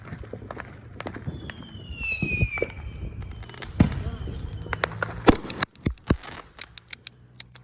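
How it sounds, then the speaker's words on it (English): A Fourth of July firework goes off with a whistling rise, followed by sharp crackling pops and bangs at moderate distance, with people talking faintly nearby. "Just gonna fire one shot."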